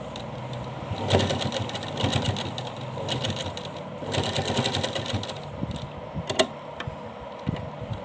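A sewing machine stitches a bodice onto a small dress for a Laddu Gopal idol, running in several quick bursts of rapid clattering with short pauses between them.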